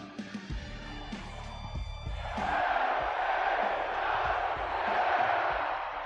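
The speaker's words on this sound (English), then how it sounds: "The crowd firmly behind LA Knight in this match." Wrestling arena crowd in WWE 2K24 during a Universal Championship match; a few low thuds open the clip, then a broad, steady roar of cheering swells up and holds strongly through the rest.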